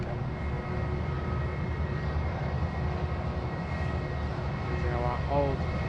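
Jetstar airliner on the runway at Sydney Airport, a steady broadband jet engine roar that holds constant throughout at moderate distance, with a brief tonal whine near the end.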